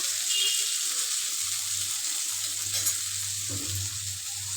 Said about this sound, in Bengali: এবার এই মাছটা হলে আমার রান্না শেষ আজকের মতো